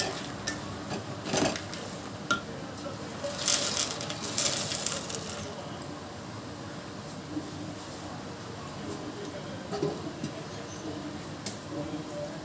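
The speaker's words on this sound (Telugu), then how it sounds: "పైకి కిందకి టర్న్ చేస్తూ కలుపుకోవాలండి." A spoon stirs peanuts through hot sugar syrup in a pan for peanut chikki, giving a soft scraping and clicking with occasional sharper knocks, while someone talks over it.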